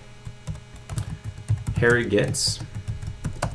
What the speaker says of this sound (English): all I'd have to do is start typing.